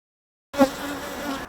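Bees buzz in a brief close hum that starts abruptly after half a second of silence, swelling slightly at first and then holding steady for about a second.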